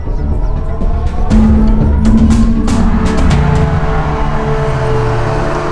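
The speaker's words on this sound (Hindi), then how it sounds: "अरे क्या हुआ, गाड़ी वाड़ी क्यों रोकी?" A car pulls up and stops at a police checkpoint, its engine droning loudly and steadily with a rising tone that settles, plus a few sharp clicks and knocks.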